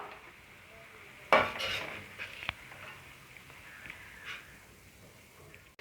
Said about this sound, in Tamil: ரைஸை சேர்த்தாச்சு இப்போ நல்லா நம்ம கிளறி விட்டுப்போம்